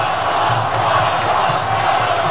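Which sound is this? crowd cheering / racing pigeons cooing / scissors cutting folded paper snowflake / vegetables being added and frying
crowd cheering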